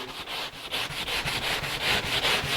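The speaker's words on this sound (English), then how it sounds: "with some coarse grit sanding paper, sanding at a 45-degree angle on the aileron is the best thing to do" Coarse sandpaper on a block rasps back and forth across a wooden aileron at a 45-degree angle in quick, regular strokes, a close, gritty scratching repeated about ten times.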